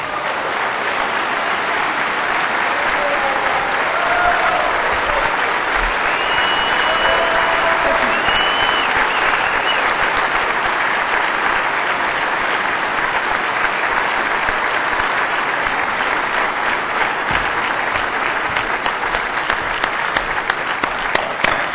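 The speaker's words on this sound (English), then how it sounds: "Ladies and gentlemen, a big hand of applause for Dr. Paul." Audience applause after a political speech on health care, sustained and dense clapping at an even level throughout, close and loud, with a few voices underneath.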